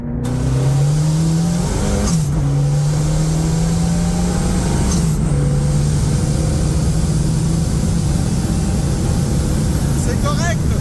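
A Peugeot 205 Maxi T16 rally car with a turbocharged 16-valve engine and body kit drones steadily and loud throughout, its pitch shifting slightly at a couple of gear changes, with voices faintly present.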